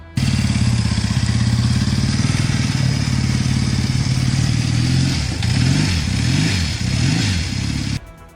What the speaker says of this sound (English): Number 9. 1973 Yamaha TX750.